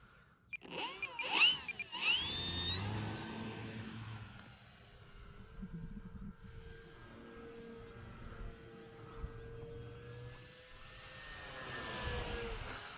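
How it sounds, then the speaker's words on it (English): A Draco RC model airplane flies overhead in the dark, its engine a steady drone that swells and fades as it passes, alone without talk. "Man, what a great flying plane."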